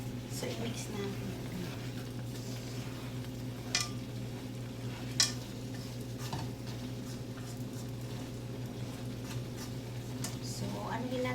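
Asparagus and shrimp stir-fried in a pan, with steady clatter of a utensil scraping and stirring over a low sizzle and a couple of sharper clinks, while a voice talks over it.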